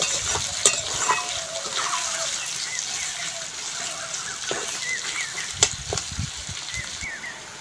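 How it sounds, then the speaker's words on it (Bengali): Onion and garlic fry in oil with a steady bright sizzle, broken by occasional stirring scrapes and clinks, close up and fairly loud. "পেঁয়াজ আর রসুনটা ভালো করে ভেজে নিয়েছি"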